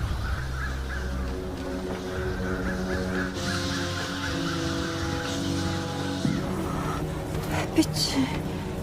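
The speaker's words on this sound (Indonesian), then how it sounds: "Namun tiba-tiba burung-burung berterbangan" Crows in a dark-drama setting cawing harshly, several calls rising over a steady low background, fairly faint and distant, with a brief sharper flutter near the end.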